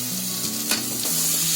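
Cooked vegetables and spinach sizzling and frying in a pan with salt and turmeric, a close continuous crackle with a few soft scraping stirs.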